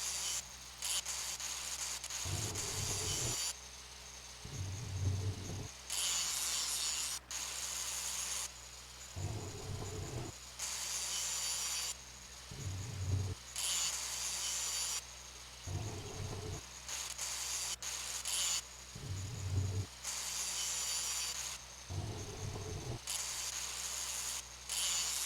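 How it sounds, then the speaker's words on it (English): In a pipe-fitting video game, a grinder blade cuts through a pipe with loud, hissing rasps that come in regular bursts, each followed by a low, rumbling pause, over a steady background hum. "Slowly cut through the pipe along the outside of the wrapped section using the blade of the grinder."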